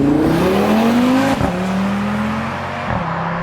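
An Audi RS3 8Y drives along country roads in the UK, its engine note steady and close with a rising then settling pitch as it accelerates and shifts, carrying continuous road and wind noise throughout.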